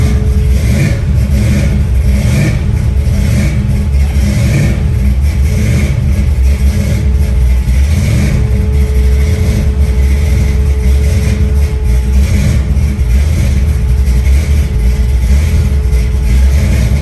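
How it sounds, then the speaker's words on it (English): A blue wagon from a car collection, readied for transport, runs with its engine rumbling and revving. The loud, steady drone is close and continuous throughout, with no talking. "making sure all the cars start and they're ready to go to get loaded"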